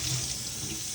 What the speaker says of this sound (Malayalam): പ്ലേറ്റ് കഴുകി.